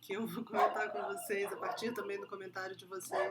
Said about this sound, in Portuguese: vou ver se eles param de latir.